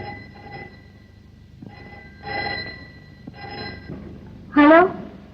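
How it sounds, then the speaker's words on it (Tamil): Old-fashioned telephone ringing in a classic Tamil film scene, several muffled ring bursts spaced apart, ending with a louder sharp tone. "பாம்பேல இருந்து ஃபோன் கால்."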